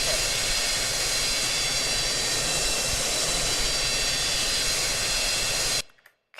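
A loud, steady airplane jet engine roar in the flight game Project Flight, a constant hissing drone that holds evenly for nearly six seconds before cutting off abruptly into silence.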